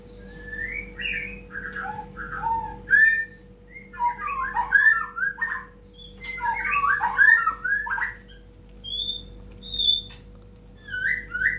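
A moulting bird squawks and whistles in repeated bursts of harsh calls and chirps, fairly close, with a low steady hum underneath and no talking.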